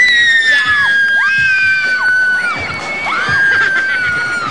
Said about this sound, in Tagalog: Tili ulit.